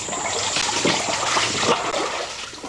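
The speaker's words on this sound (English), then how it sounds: "You'll find about 6 inches of water trickling through the cave." Shallow water, about six inches deep, trickling and splashing through the passages of Eleven Jones Cave, a steady close wash of running water with small irregular splashes and no voices.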